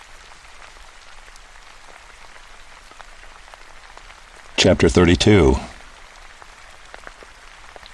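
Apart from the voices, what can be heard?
rain falling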